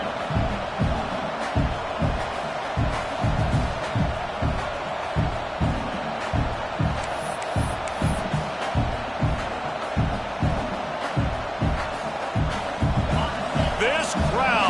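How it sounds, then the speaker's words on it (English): A loud football stadium crowd roars without pause at an NCAA game against LSU. The steady wash of noise is broken by rhythmic thumping and clapping, with a broadcast commentator talking over it. "This crowd, full throat, spreading the eardrums and letting them know it's going to be a long day."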